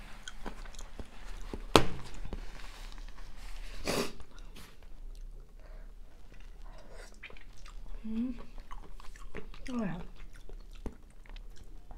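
Close, wet chewing of canned Chinese shellfish, steady mouth sounds with a few sharper clicks and bites, while someone speaks quietly at times.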